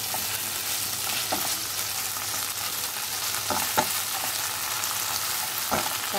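Ginger and tomato paste frying with fried onions in a pan for a restaurant-style okra (bhindi) do pyaza: a steady loud sizzle throughout, with a few brief stirring scrapes and no talking.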